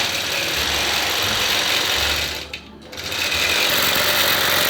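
A sewing machine runs steadily while stitching a diagonal plaid quilt pattern on shifting fabric, its loud close motor chatter continuous apart from one brief pause near the middle.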